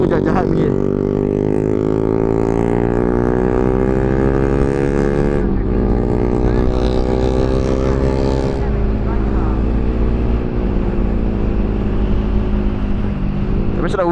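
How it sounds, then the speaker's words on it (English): Several Honda CBR150R motorcycles on a group ride hold a loud, continuous engine drone with rising and falling pitch, one engine shifting around the middle, under rushing wind from riding at speed. "Motor bunyi semua jahat-jahat bunyi"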